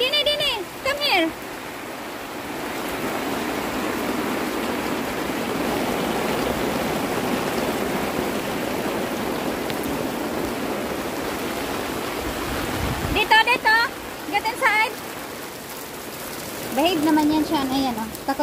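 Steady rain falls on a home garden, a dense even hiss of drops on surfaces that continues throughout, with someone talking at the start and again near the end.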